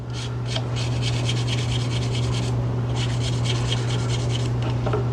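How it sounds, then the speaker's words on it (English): Repeated rapid rubbing strokes of a sanding pad against a small metal jewelry piece for a necklace, in bursts with a brief pause, over a steady background hum. "We could even at this point maybe switch to the sanding pads."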